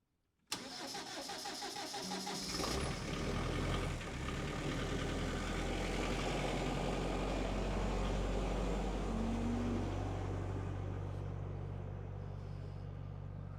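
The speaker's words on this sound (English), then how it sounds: "So let's jump on the tractor and take them one." A farm tractor's engine cranks and catches after a short silence, then settles into a loud, steady, close-up idle that runs on without a break.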